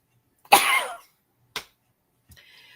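A single harsh cough up close, followed by a short second cough and a faint throat sound after a pause.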